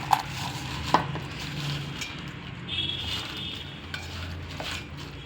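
Crispy corn frying and being stirred in a pan, a steady crackling sizzle with a few sharp scrapes and clinks of a utensil against the metal near the start.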